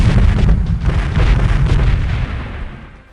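An M4 grenade launcher fires in the Delta Force video game, a loud, heavy booming blast with a rumbling tail that fades out over a few seconds, with no speech.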